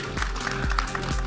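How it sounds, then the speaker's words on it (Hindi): An audience at a film trailer event claps in a dense, loud, continuous wash of applause filling the hall. "एक बार जोरदार तालियां चाहिए।"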